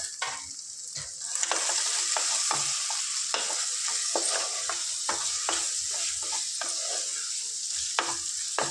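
Ivy gourd curry stirred in a pan after chili powder goes in, a continuous frying sizzle with repeated scraping strokes of a spoon throughout, fairly quiet and without speech.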